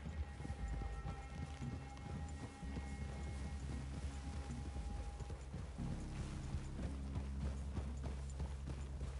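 Horse hooves clip-clopping in Red Dead Redemption 2, a steady rhythmic plodding of several horses at a walk, fairly quiet and continuous alongside a low ambient rumble, with no voices.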